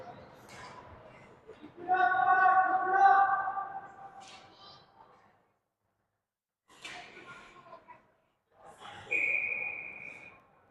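A referee's whistle at a U13 elite youth ice hockey semi-final gives one short, sharp blast near the end, heard among an arena commentator's ongoing play-by-play talk.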